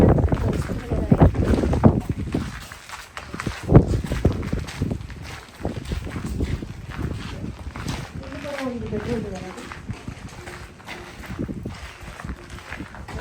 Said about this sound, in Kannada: ಗಾಳಿ ತುಂಬಾ ಜೋರಾಗಿ ಬೀಸ್ತಾ ಇದರಿಂದ ನಾನು ಮಾತಾಡ್ತಾ ಇರೋದು ಒಂದೊಂದ್ಸರಿ ನನಗೆ ಕೇಳಿಸ್ತಾ ಇರಲಿಲ್ಲ.